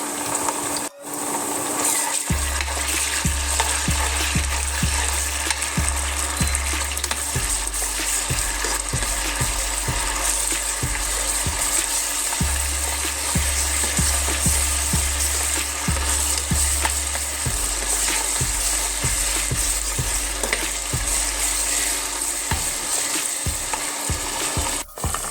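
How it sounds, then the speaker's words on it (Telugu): Ginger garlic paste fries with onions in a pan for a chicken and potato curry, a loud steady sizzle running throughout with repeated scraping stirs, no talking. "జింజర్ గార్లిక్ పేస్ట్ మంచిగా వేగిందండి."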